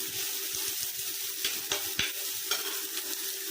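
Onion, ginger and garlic fry together in a pan for a raw mango thoran, giving a steady close sizzle broken by several sharp scrapes and knocks of a spoon stirring.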